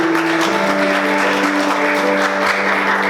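A church congregation claps together loudly at a sermon, a steady wash of applause with a faint held musical tone underneath.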